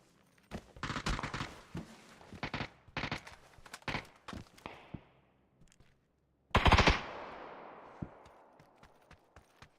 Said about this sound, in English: Like stray bullets landing next to me.